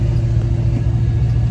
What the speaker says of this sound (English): Other than that, the car drives fine.